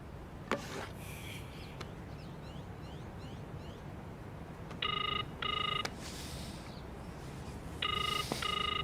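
A phone dials and rings faintly: a few short beeps, then two pairs of repeated electronic ring tones over quiet background hiss.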